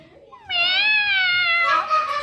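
A person's voice imitates a cat, giving one drawn-out, wavering meow up close that rises, holds and then tails off, with no other sounds around it.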